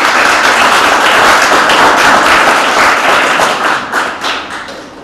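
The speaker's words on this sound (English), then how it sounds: "I'm hoping that we can clap for them, because they did a great job" Loud, dense audience applause for a team at a science institute event, a full wash of clapping that holds steady for about four seconds and then tapers off.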